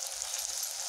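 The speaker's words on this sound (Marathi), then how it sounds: "हे चांगलं परतून घेऊया।" Chilli powder, turmeric and garam masala sizzle steadily in hot oil for matki curry, a dense, even frying hiss close up with no talk.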